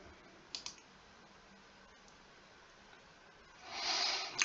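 Quick computer mouse clicks, a tight double click early on and a lone faint click later, followed by a soft breathy rustle swelling near the end, all quiet and close.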